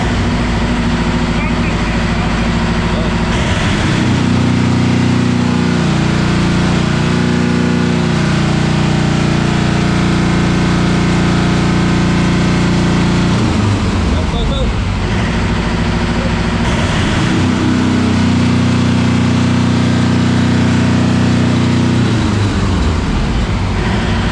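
Car engine running steadily during a battery charge test, a loud continuous idle drone with the revs rising and falling in surges, and a person talking over it.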